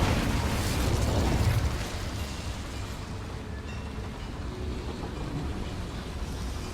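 A roaring fire blast from the Incendio spell in Hogwarts Legacy, cast inside a mine: a loud, dense burst for about two seconds that settles into a sustained, rumbling crackle.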